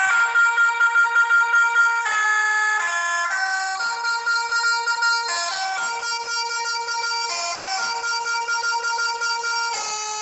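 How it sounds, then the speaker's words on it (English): A truck's air horn blares at the Ottawa convoy protest in long, sustained, loud blasts, its steady multi-toned blare shifting pitch slightly between honks with almost no break. "Here's another honk."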